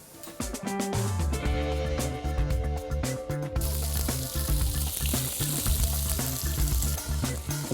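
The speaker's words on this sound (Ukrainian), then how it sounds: "риба і креветки смажаться дуже швидко" Loud, steady sizzling of sea bass and shrimp frying in a hot pan, crackling continuously throughout with no voices.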